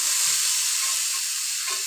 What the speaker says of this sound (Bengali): আলুগুলো ভাজা হলে এবার ছোলাগুলো দিয়ে দেবো।